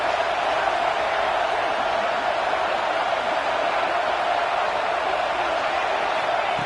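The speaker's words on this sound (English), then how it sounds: "It's early, but this crowd is fired up. Listen to this noise here." A stadium crowd roars at a college football game, a dense, loud, unbroken wash of cheering and noise from thousands of fans that holds steady throughout without any clear breaks.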